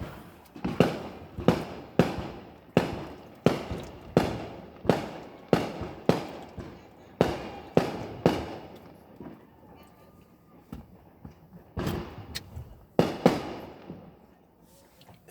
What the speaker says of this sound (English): I'm gonna let the fireworks go because they're pretty loud